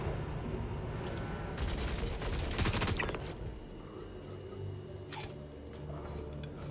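Suppressing gunfire in the Star Citizen game: a dense, rapid automatic burst rattles loudly for about a second and a half midway through. Scattered sharper single shots crack before and after over a low background hum, with no talking.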